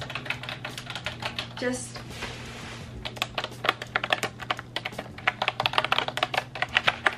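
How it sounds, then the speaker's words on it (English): Rapid typing on a computer keyboard with a typewriter-like feel, a steady stream of crisp close key clicks over several seconds, with a brief word spoken near the start and a faint low hum underneath. "I liked this because it gave me typewriter vibes"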